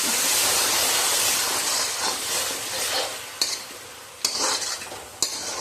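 Tomatoes and potatoes fry in a chicken masala gravy with a steady, close sizzling hiss, broken by three sharp scraping clatters of stirring toward the end.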